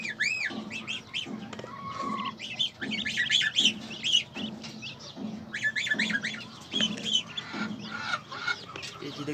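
Ducklings and young chicks peep and chirp in a busy, overlapping chorus, high-pitched calls repeating close by with a few clucking notes mixed in, continuing throughout without pause.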